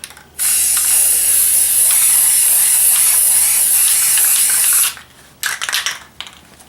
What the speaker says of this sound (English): I flipped over the handle that I'm spray painting